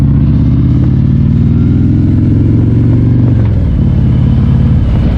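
Motorcycle engine rumbling and revving steadily on a ride in Tennessee with a passenger on the back, loud and close throughout with constant low drone and wind-like clatter, no talking.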